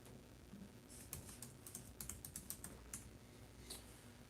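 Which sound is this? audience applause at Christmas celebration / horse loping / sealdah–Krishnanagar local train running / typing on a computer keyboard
typing on a computer keyboard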